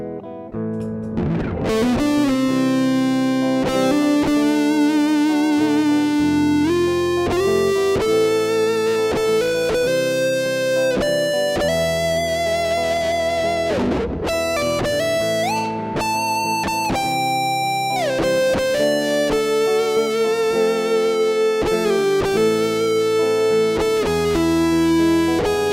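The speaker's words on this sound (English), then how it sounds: "Let's put some distortion on." Electric guitar with heavy distortion plays sustained, buzzing notes and sliding bends with vibrato, loud and continuous, with no talking.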